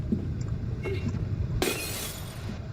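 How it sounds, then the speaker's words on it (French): Glass shatters loudly in the video game Little Nightmares 2, a sudden bright crash with a trailing tinkle of shards under a steady low background rumble. "j'adore le bruit de verre cassé dans la benne à recycler"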